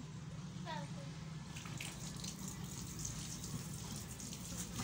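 Water gushes steadily from a hose pipe onto a floor in a soft, continuous hiss, with voices speaking faintly over it.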